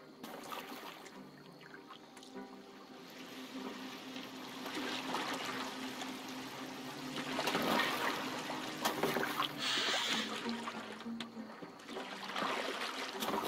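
Viking longboat gliding through water in Assassin's Creed Valhalla, a steady wash and lapping of water with soft splashes that swells midway, continuous and fairly close with no talk.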